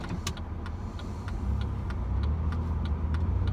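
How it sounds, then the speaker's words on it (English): Road traffic passes by as a continuous low engine rumble that swells partway through, with light periodic ticks on top and no talking. "Oh, the traffic."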